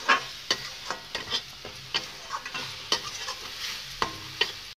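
Spice paste frying in a pan for a mustard snakehead fish curry, a close steady sizzle broken by repeated scraping stirs and spoon taps at an uneven pace, no voices.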